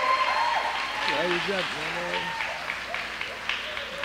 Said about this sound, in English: Everybody give the band one more round of applause, please